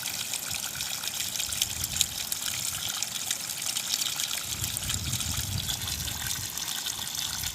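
Water released from a hose or channel gushes steadily through a garden, a continuous broadband rush and splash that holds an even level from start to finish, with no voices.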